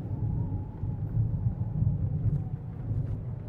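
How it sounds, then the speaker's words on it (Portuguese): Low steady wind rumble from the horror game Dreamless, a dull continuous whoosh with slight swells in strength, heard alone without talk. "O vento."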